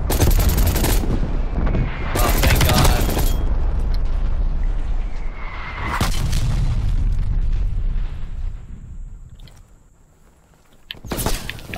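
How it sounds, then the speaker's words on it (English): Artillery killstreak explosions in the video game Call of Duty Cold War: several loud, heavy blasts and rumbling booms in bursts, with crackling debris between impacts and a quieter lull before a final strike. "Artillery inbound."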